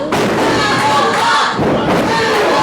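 A wrestler's splash landing in the ring at a Friday night independent wrestling house show, heavy thuds buried in loud, continuous crowd noise with cheering throughout.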